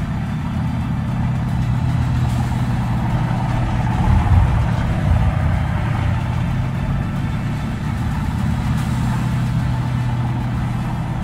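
A vehicle engine in the Steel Division 2 war game, overheating, runs as a constant low rumbling drone at steady loudness for the whole stretch, with no talk over it.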